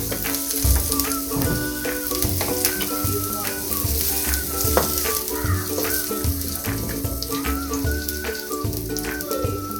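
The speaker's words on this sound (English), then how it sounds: "So you want to cook your onions until they are golden brown. So keep stirring." Onions fry in vegetable oil and are stirred steadily, a loud, close, crackling sizzle with repeated spoon scrapes and taps against the pan throughout, no talking.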